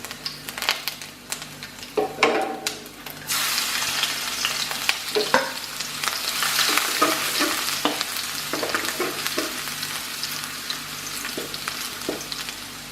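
Garlic frying and being stirred in a pan of hot oil for a Kerala kappa biriyani with beef, a loud bright sizzle swelling after a few utensil clinks, with repeated scraping stirs throughout and no voices.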